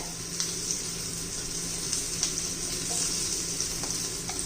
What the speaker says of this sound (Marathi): मस्त असं मिरच्या तेलामध्ये परतून घ्यायच्या